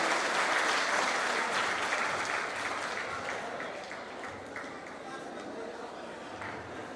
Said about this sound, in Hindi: तालियां ठाकुर सर के लिए।